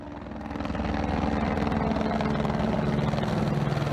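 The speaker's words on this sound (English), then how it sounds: "That's Border Patrol. That is one of their helicopters." A Border Patrol helicopter passes overhead near the US–Mexico border at El Paso, its rotor thumping in a fast, steady rhythm that swells in over the first second and then stays loud and constant.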